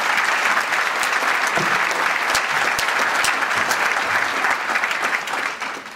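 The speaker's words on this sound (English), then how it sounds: "a round of applause for our sponsors" Steady, full applause from the audience at a police awards luncheon honouring its sponsors. It holds dense and even for several seconds, then tapers slightly at the close.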